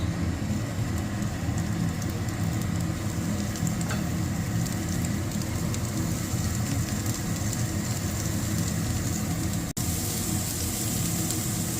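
Bread pieces frying in butter in a pan, a constant close sizzle with a dense crackling hiss running evenly throughout, with a brief click near the end.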